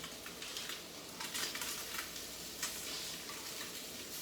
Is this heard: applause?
no